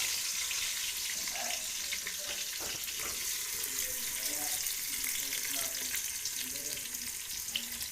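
Onion dropped into hot oil for a spicy chicken curry gives a steady hissing sizzle at close range, with faint voices murmuring in the background.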